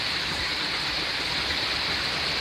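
A waterfall of hot, steaming sulfur water gives off a steady, dense rushing hiss, loud and continuous throughout, with no voices.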